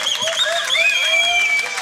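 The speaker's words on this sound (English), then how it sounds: "A big applause to Matej from Austria!" Crowd applause mixed with cheering and whoops at the final of the SBX Camp 2019 Loopstation Battle, a steady, dense roar of clapping and voices that holds throughout.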